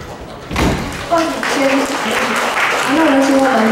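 Audience applause at a university lecture and awards event, a broad wash of clapping under a voice speaking over a loudspeaker, with a thud near the start.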